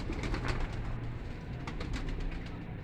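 Female pigeon at a kabootar bazi loft in Lahore, cooing in soft repeated low murmurs set against a dense, noisy background.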